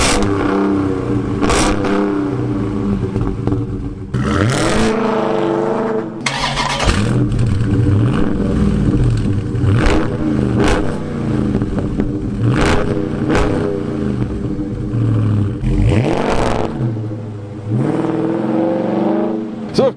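A 2020 Dodge Charger Hellcat Widebody and a Scat Pack Widebody rev their V8 engines, with loud repeated rises and falls in pitch and short blips as the throttle is blipped again and again, close by.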